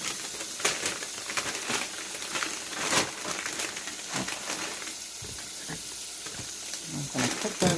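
Pork frying in a pan at home, a steady sizzle broken by repeated scraping and clattering stir strokes, close and moderately loud.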